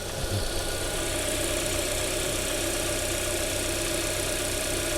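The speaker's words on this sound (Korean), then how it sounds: "K7 심장 소리입니다. 엔진 소리 한번 들으실게요." A Kia K7 (2.4 GDI gasoline) car engine idles steadily with a constant low hum and faint mechanical ticking, close by and uninterrupted, with no voices.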